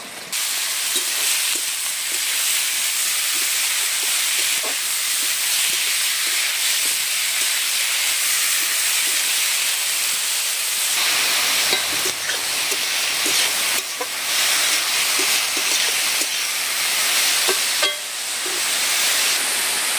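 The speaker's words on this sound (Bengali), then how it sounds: "তেলের মধ্যে আমি দেব চেরা কাঁচা লঙ্কা আর দেব গোটা জিরে ফোড়ন" Slit green chillies and whole cumin seeds sizzling in hot oil in a kadai, a loud, dense, steady hiss with scattered crackles and pops that carries on without a break.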